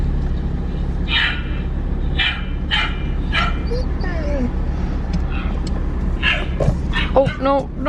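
A puppy's barks played back from a phone inside a Miata on a road trip, a run of sharp yips and small barks with whimpers, over a steady low car-cabin rumble.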